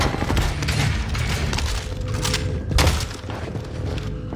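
Dense gunfire and booming explosions fill a video game battle, continuous and loud with heavy thuds throughout.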